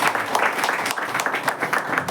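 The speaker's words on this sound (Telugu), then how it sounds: "గట్టిగా చప్పట్లు కొట్టి" A crowd at a night prayer meeting claps loudly, with rapid, dense, rhythmic applause and a voice briefly audible beneath it.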